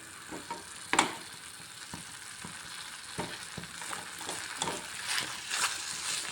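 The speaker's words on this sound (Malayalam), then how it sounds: "ഇത് നന്നായി നല്ല ഫ്ലെയിമിൽ തന്നെ വഴറ്റി കൊടുക്കുക." Butter chicken masala sautéing in a pan on high flame, a steady sizzle and frying hiss broken by scraping stirs and small splatters, close and moderately loud, with no talking.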